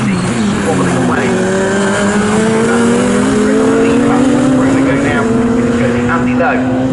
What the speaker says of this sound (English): we wait the arrival of the next couple of cars through, because they've all been busy squabbling away